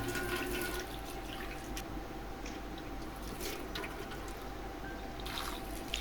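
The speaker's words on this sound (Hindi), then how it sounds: "ये देखिए, मैंने अब इसको धनिया को भी एक दफ़ा फिर से वॉश किया है।" Tap water runs steadily into a sink while fresh coriander is rinsed by hand, with soft splashing and squishing of the wet leaves throughout, close and continuous without any talking.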